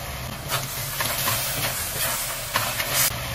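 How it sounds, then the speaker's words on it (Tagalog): Sweet ham sizzles steadily in a hot pan, a continuous hissing fry with a few brief louder spatters and no talking. "So, gigisa ko lang din po ito mabuti."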